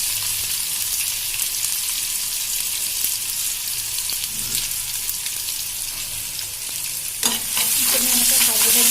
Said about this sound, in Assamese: এনেকৈ ভাজি থাকিব